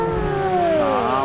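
A car engine in the GTA 5 video game revs steadily, its pitch rising and falling in smooth harmonic sweeps, loud and close and continuous throughout the short moment.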